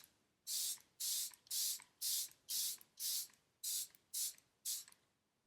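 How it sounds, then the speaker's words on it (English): Charlotte Tilbury Airbrush Flawless setting spray misted from a pump bottle in nine quick, close, hissing bursts at an even rhythm, with brief quiet gaps between them. "Now let's apply setting spray with the Charlotte Tilbury Airbrush Flawless Setting Spray"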